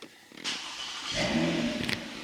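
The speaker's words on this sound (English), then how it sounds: "When we start our car," A car engine cranks briefly, catches and settles toward a steady idle, a short and fairly quiet burst of starter and engine noise with no talking.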